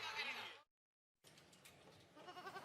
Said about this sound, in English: What's with all the goats?